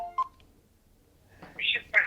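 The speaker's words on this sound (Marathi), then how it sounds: "एक फोन येतोय, आपण एक फोन घेऊयात." On a live phone-in news show covering a Pimpri-Chinchwad municipal election, an incoming call sounds as a brief telephone tone, followed after a pause by a thin voice coming over the phone line.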